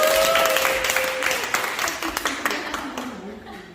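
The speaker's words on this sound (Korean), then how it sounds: "박수 보내주시죠." An audience at a tango dance event claps loudly at first, then the applause thins into scattered, distinct claps as it fades, with a faint voice or tone briefly audible early on.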